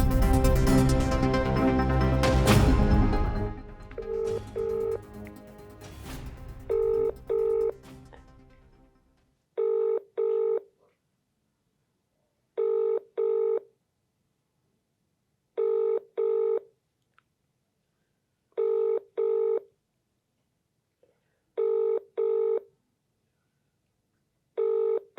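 A telephone call rings out unanswered, the repeated double ring tones sounding clearly in regular pairs after a brief burst of louder noise at the start, with silence between each ring.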